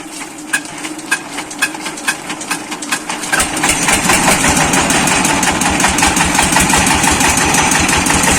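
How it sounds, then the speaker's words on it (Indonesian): A diesel engine for an Indonesian sound-system setup is cranked in a few separate knocking pulses, then catches and settles into a loud, steady, rhythmic chugging idle close by. "Karena nyelenger diesel itu nggak semudah yang kita hanya lihat."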